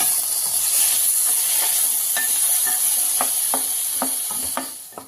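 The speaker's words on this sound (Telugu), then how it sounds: "ఇప్పుడు టమాటాలు వేయించుకుందాము. ఇవి మెత్తగా వేయించుకోవాలండి బాగా." Tomatoes frying in a pan, a bright hissing sizzle punctuated by a series of regular spatula stirs and scrapes, steady then fading slightly at the end.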